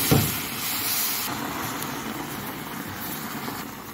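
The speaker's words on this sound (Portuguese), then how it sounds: "Agora eu vou colocar a água." Water poured into melted sugar caramel for a condensed milk pudding, a sharp burst of steam at the start that settles into a sustained hiss, close and alone.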